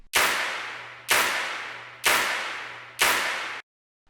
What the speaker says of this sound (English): basically I added some claps and snaps.